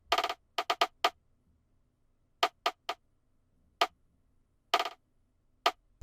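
A dry rim percussion sample in an FL Studio beat, ticking out sharp, clicky hits in loose clusters of two and three, spaced irregularly across the bar, close and alone with no voices.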